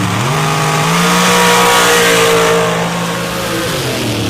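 A drag race car launches at an MRA championship round, its engine roaring loud and close, rising in pitch as it pulls hard down the track, then easing briefly near the end.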